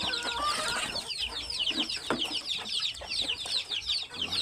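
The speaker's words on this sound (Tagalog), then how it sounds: "Mga manok." Several chickens cluck and chatter close by in quick, overlapping bursts, with soft scuffling in the background and no voices.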